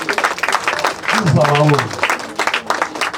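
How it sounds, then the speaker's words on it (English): Audience applause at a university alumni ceremony unveiling and commissioning campus projects at OOU, a steady crackling patter running beneath a man's amplified speech throughout. "So we can clap ourselves more than that because this is our own."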